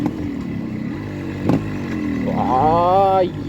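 A Yamaha RX100 two-stroke motorcycle rides along with a steady engine drone, dips briefly at a gear shift, then climbs in pitch as it revs up before easing off.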